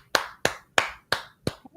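A single person clapping alone: five sharp, evenly spaced claps followed by a quicker pair, close and dry with nothing else around them.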